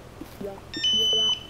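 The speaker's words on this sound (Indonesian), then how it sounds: "Maka ada suara beep sekali, itu kalian lepas jari, lalu suara beep lagi." A fingerprint door lock sensor gives a clear electronic beep, a single steady high tone held for about half a second over faint background clicks.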